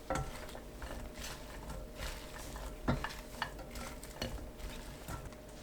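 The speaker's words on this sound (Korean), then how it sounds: "팬에 불 켜지 않은 상태로 느타리버섯, 양파, 들기름 2큰술 넣어 섞어주세요." Oyster mushrooms, onion and perilla oil are stirred together in an unheated pan, making close, irregular scraping and soft wet rustling with small clicks and no sizzle.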